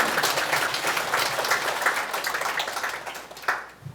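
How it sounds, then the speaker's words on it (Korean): Applause from a workshop audience at a provincial council staff training session, a steady dense clapping that holds for several seconds before tapering off near the end. "큰 박수 부탁드립니다."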